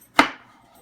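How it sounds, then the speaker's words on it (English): One sharp knife chop through apple on a cutting board, close and crisp, followed by a short fading ring and near silence. "So first I have to cut the apples into small bits."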